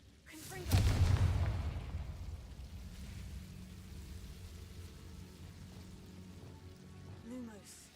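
A Confringo explosive spell in a Hogwarts wizarding video game goes off in a single heavy boom, then fades into a long rumbling, crackling tail.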